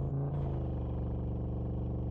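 A video-game car engine hums steadily at a low, even pitch, close and continuous, with no talking.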